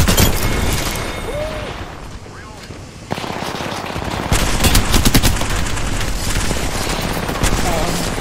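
Rapid automatic gunfire fills a video game shooter match, with sustained machine-gun bursts, brief gaps and renewed volleys of loud, close shots, while players talk over the action.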